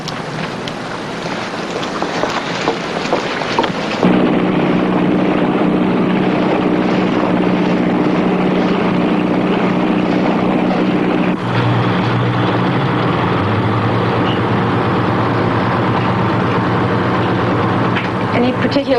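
A steady boat engine drone with wind and water rush, its pitch shifting partway through, while voices talk over it.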